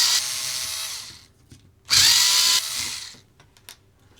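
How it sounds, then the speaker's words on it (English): A power screwdriver backs out the front bumper screws of a Kyosho Optima Mid RC car, two loud close whirring bursts separated by a brief pause, followed by faint clicks. "So let's quickly get these two front screws out."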